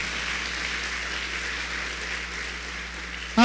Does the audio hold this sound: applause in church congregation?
yes